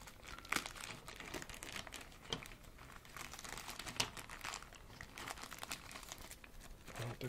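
Plastic packaging bag from a parcel of clothing crinkling close by, a continuous dry rustle with sharper crackles throughout, fairly quiet.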